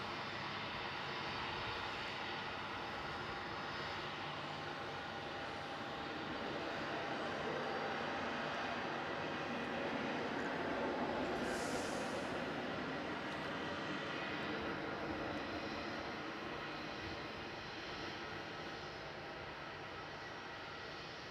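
An airliner landing on runway 16 at Melbourne Airport at night, heard as a steady, broad engine roar that swells gently toward the middle and stays distant and continuous for the whole span.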